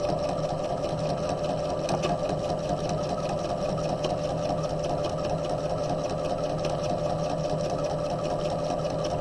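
A sewing machine stitching the lining of a tote bag runs continuously at a steady, even pace, its fast mechanical rattle close and loud throughout with no pause.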